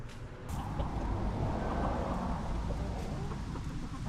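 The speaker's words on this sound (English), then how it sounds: "enjoy my chickens" Chickens cluck and murmur continuously in a noisy outdoor setting with steady background rumble.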